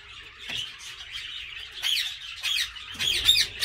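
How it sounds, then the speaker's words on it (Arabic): Assorted caged parrots, including rosellas, squawk and chirp in an outdoor animal garden in Germany, overlapping harsh calls that rise and fall close by without pause. "في عنده طيور الدرة، في عنده ببغاءات منوعة مشكلة"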